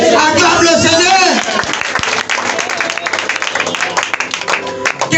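Church congregation clapping and acclaiming the Lord during a Sunday service, loud dense applause and cheering voices that swell at first, then continue as rapid scattered claps with shouts mixed throughout.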